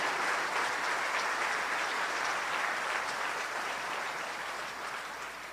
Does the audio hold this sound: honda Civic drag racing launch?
no